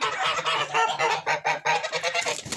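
Geese honk loudly and continuously in a dense, overlapping chorus of rapid, nasal calls, close by with no pauses.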